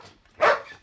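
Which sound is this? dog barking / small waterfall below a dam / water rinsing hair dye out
dog barking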